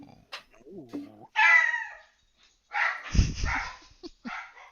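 A person howls in excited imitation of a dog during a tabletop fantasy game, with short rising and falling vocal yelps, a burst of strained noisy howling near the middle, and other voices chattering around it.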